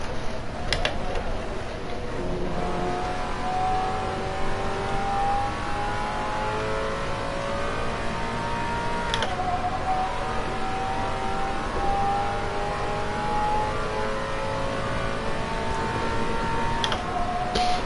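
A turbocharged car engine in the racing game Assetto Corsa drones steadily through long gear pulls, its pitch climbing and then dropping at each shift, with a muffled note.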